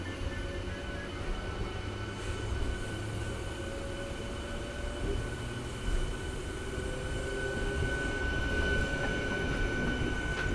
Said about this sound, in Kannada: ಇದು ಎಕ್ಸಾಕ್ಟ್ಲಿ 5:45ಗೆ ನಮ್ಮ ಮೆಮು ಹೊರಡ್ಬಿಟ್ಟಿದೆ ವಿಜಯಪುರ ರೈಲ್ವೆ ಸ್ಟೇಷನ್ ಇಂದ